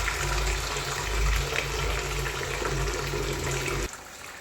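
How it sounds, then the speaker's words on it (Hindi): Water from a tap pours steadily into a bucket, a continuous close rushing that stops abruptly near the end. "बाल्टी में अब पानी भर लेते हैं"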